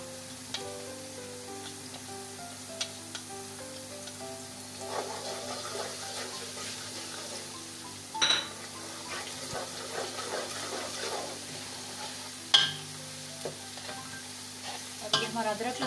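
Browning onions with ginger-garlic paste sizzle steadily in a pan for chicken biryani, with close stirring and scraping clinks on top, and no talking.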